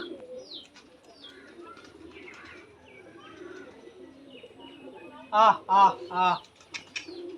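Giribaj pigeons released from the hand, with a few loud bursts of flapping wings near the end, preceded by soft cooing, chirps and background voices.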